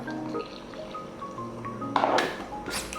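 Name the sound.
pouring a cup of water into waffle batter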